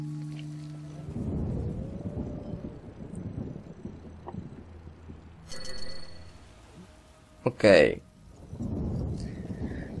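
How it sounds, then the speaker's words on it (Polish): Rain and thunder roll through The Witcher video game world at night, a soft wash of falling rain with a low rumble and a sharper crack near the end, while someone speaks briefly. "piękne niebo z padającym deszczem"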